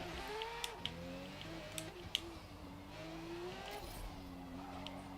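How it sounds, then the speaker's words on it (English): A racing car engine in Forza Motorsport drones steadily with rising and falling harmonic pitch, a few sharp clicks cutting through the continuous motor whine. "car sounds excellent, doesn't it? I think the car sounds great"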